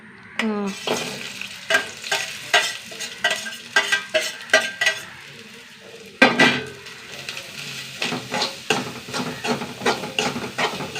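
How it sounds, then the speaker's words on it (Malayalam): Shallots and garlic fry in a pan while a spoon scrapes and knocks against the metal in repeated close strokes over a soft sizzle, with a louder clatter midway. "നാലഞ്ച് ചെറിയ ഉള്ളി ചെറിയ ഉള്ളി വെളുത്തുള്ളി ഇട്ട് കൊടുക്കട്ടെ"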